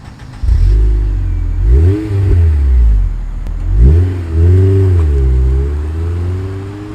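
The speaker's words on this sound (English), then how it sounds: "So it comes with a pretty nice exhaust note." A ten-year-old car with a twin Fujitsubo exhaust revs up and settles repeatedly, a deep throaty note rising and falling in several close, loud blips over a steady idle.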